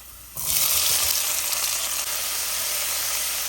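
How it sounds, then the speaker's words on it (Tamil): Sliced onions hit hot oil in a pan for a Tamil sardine fish curry, a sudden loud sizzle that settles into a steady close hiss, with no voices. "இப்போ வந்து வெங்காயம் போடலாம்."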